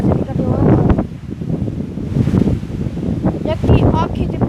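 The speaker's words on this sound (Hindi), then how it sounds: "इतनी तेज हवा चली खड़ी हो" Strong wind gusting loudly and continuously across an outdoor microphone, a dense roaring rush with buffeting throughout, while voices speak over it.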